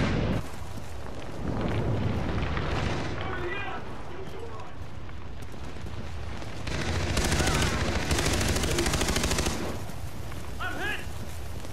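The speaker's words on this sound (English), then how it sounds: "The pirates are dropping barrel bombs!" Pirates drop barrel bombs in a Far Cry 3 team deathmatch at a temple, setting off heavy blasts amid bursts of gunfire, with in-game voices shouting over the chaos.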